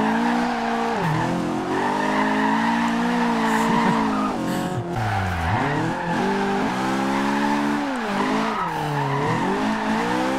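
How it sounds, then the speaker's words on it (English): A 1991 BMW M3 E30 built for drifting slides at high speed in Forza Horizon 2. The engine roars continuously while the tires squeal in repeated swells as the car transitions. "some high-speed drifting in this game is also incredibly fun"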